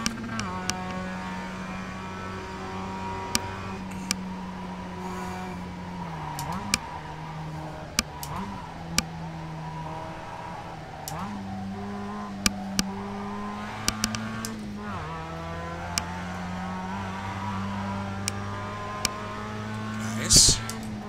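Mazda MX-5 race car engine droning steadily through a timed lap at Phoenix in iRacing, a sustained close hum with pitch dips and rises through corners and sharp clicks of gear shifts.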